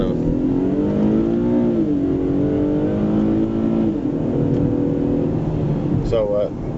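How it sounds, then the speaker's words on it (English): Engine and exhaust of a 2012 Infiniti FX35 with a 3.5-liter V6 and 303 horsepower, rising steadily in pitch as it accelerates through held gears, loud and continuous from inside the car, with a brief voice near the end. "I want you to really be able to listen to this exhaust note"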